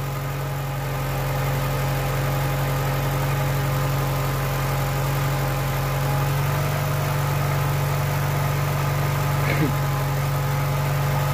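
A VW Polo 86C oldtimer engine idles steadily, a constant low hum holding the same pitch throughout, close by and uninterrupted, with no talking over it.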